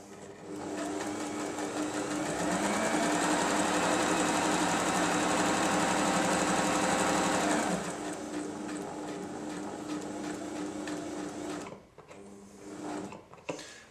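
A Janome 2522 sewing machine sews a 3-step zigzag stitch in one long, loud, steady whirring run that eases slightly before stopping, followed by a few faint clicks.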